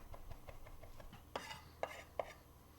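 A knife working over mashed garlic on a cutting board, faint soft scraping and light taps at first, then three sharper chopping knocks near the end, heard alone in a quiet kitchen.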